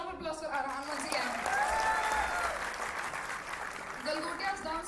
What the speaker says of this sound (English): Everyone, a huge round of applause for Arhan once again.